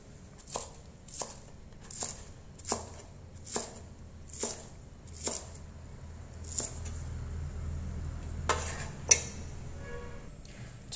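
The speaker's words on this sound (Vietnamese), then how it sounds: "Hành lá các bạn thái ra cho mình nhé." Green onions are chopped with a knife on a cutting board in a steady series of about a dozen crisp, evenly spaced chops, close and fairly loud, over a quiet kitchen background with no talking.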